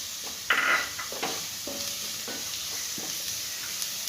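Onions and four spice powders frying in a pan for kappa bonda, stirred with a few scraping clinks of the spoon over a continuous sizzle, with no one talking.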